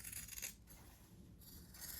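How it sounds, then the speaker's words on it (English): Faint, close crisp snipping of scissors through cloth, two bursts of cutting separated by a quiet pause, with no talking. "I'm just going to hold it and cut it with my fabric scissors"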